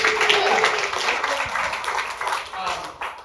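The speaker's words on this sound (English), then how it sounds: "Give yourself a round of applause." Applause and cheering from a stand-up comedy audience, a steady roar of clapping mixed with crowd voices throughout the short stretch, with talking audible underneath.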